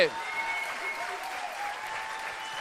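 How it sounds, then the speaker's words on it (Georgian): An audience applauds for Zurab Managadze, a dense burst of clapping that fades to a steady patter, with voices faintly mixed in. "კიდევ ერთხელ აპლოდისმენტები ბატონ ზურაბს"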